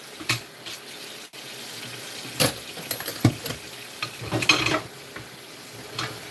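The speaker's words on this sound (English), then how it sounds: "Doing dishes." Dishes are washed by hand in hot running water with no soap: intermittent splashing and swishing, scattered clinks and clatters of dishware, fairly close over a light background of flowing water.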